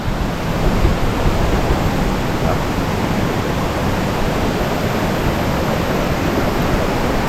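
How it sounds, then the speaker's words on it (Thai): A tiered waterfall pours over rock ledges at Lan Rak (Tat Hin Kong) falls in Nakhon Nayok, Thailand, giving a close, loud and steady rushing roar with no pauses and no voices. "มาถึงทางขึ้นที่เป็นชั้นน้ำตกนะครับ"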